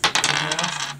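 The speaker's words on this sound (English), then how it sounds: "I gotta roll the dice, right?" Dice clatter and rattle in a quick burst during a Thanksgiving board game, a dense run of hard little clicks and bounces lasting about a second, close and fairly loud with no talking.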